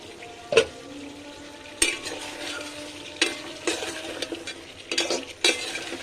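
Potatoes being stirred in a curry pot: a spoon scrapes and knocks against the pot in a handful of separate strokes, close and fairly crisp, over a low steady sizzle with no voices.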